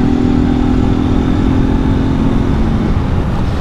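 A motorcycle engine runs steadily while being ridden on a road in Londrina, Brazil, a loud continuous mid-pitched drone with rumbling wind noise throughout and no voices.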